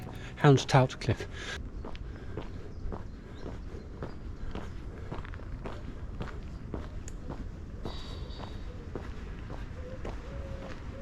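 Footsteps walking along a muddy coastal cliff trail in the Purbecks, a steady, regular stride of soft squelching steps close to the recorder, with a brief burst of birdsong at the start.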